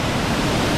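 Strong river current near a lagoon in Tanay, Rizal, a brief, dense, steady rush of water with no talking.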